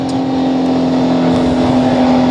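A race car accelerates out of the carousel at Road America, a loud, close, steady engine drone holding a strong tone as the throttle is squeezed on.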